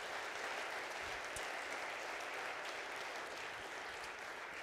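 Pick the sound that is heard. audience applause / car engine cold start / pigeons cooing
audience applause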